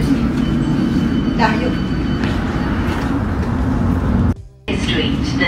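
Steady low rumble of a London Underground tube train in motion, loud and continuous from inside the carriage, with a brief dropout near the end; a voice speaks briefly over it.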